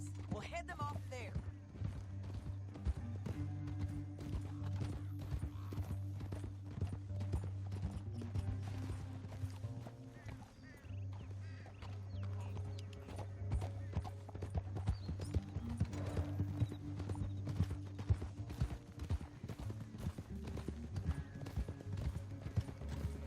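Rapid, rhythmic hoofbeats of galloping horses in Red Dead Redemption 2 pound on continuously, with a steady low musical drone beneath them.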